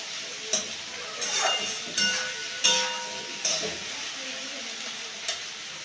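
Onions fry in a pan with a steady sizzle, broken by repeated scraping stirs that land roughly every second; the sound is close and moderately loud, with no one talking.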